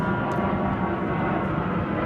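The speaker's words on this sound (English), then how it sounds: "I'll let that plane pass." A distant airplane passes overhead with a steady, broad roaring drone for the whole stretch, moderately faint with no talk.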